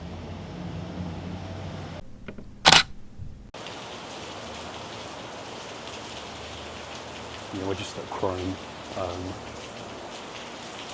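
Steady rain patters outside the Chrome Hearts shop in Los Angeles, a constant close hiss of drops on the ground with a brief sharp knock early on and someone speaking softly over it.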